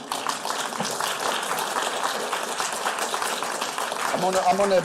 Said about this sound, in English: Little round of applause for Serena.